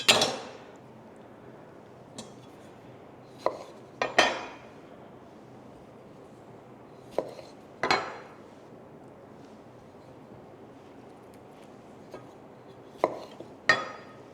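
Knife slicing homegrown tomatoes in half on a cutting board, a handful of sharp separate clicks and thuds spaced irregularly with quiet stretches between them, close and fairly soft.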